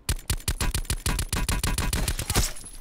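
An automatic weapon fires in a Black Ops 4 Blackout battle royale match. Loud, close shots come in a fast, regular burst of about a dozen cracks, then fade into a short tail of quieter noise.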